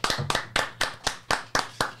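A quick run of about eight crisp, evenly spaced hand claps rings out close by on a music podcast set, applauding the singer after his performance in a sing-along segment.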